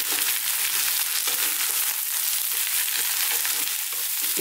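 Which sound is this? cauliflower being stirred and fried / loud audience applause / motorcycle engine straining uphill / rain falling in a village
cauliflower being stirred and fried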